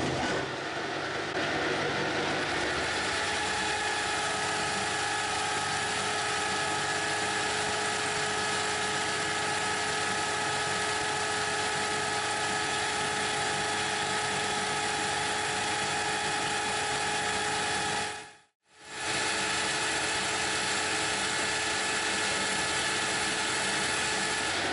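Steady, loud machining drone as the face of a rotary table adaptor plate is cut down on a machine, continuous with a whining tone and a brief cut-out near the end.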